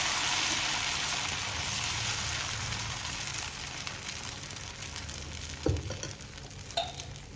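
Dosa batter sizzles on a hot pan with a loud, even frying hiss that slowly fades, followed near the end by a couple of brief scraping knocks.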